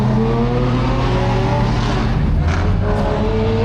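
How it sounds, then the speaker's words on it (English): Lamborghini Huracan STO revving hard with a steady droning engine note at a trackday launch, loud and close, with other cars idling in the line-up and tyre noise around it. "Lamborghini Huracan STO with this typical launch spec"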